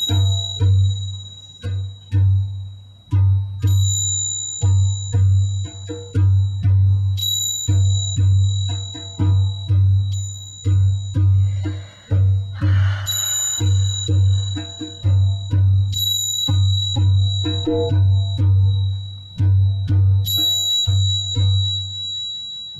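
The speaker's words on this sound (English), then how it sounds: "I chose the bells and the drum because, in a way, this is the sound of heaven." Bells and a drum played together: deep drum beats pulse in a steady, repeating rhythm while bright bell tones ring out over them at intervals and shimmer as they fade, loud and close, with no talking.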